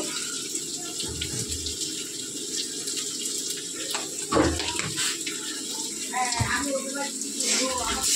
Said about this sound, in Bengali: একটু জল দিয়ে দেবো যাতে মশলাটা পুড়ে না যায়।